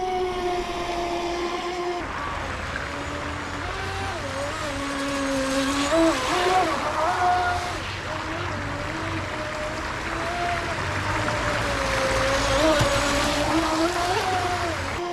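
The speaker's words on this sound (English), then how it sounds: "It's the perfect place to test out the black Marlin." A Rage RC Black Marlin EX brushless RC boat runs at top speed across open water. Its motor gives a continuous high whine that wavers in pitch as it carves along, with steady water noise beneath for about fifteen seconds.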